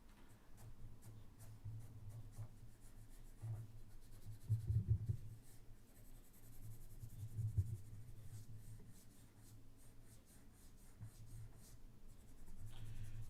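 Pencil sketching car headlamps on paper, a soft continuous scratching of graphite strokes, fairly quiet with a low steady hum beneath and a few brief louder swells.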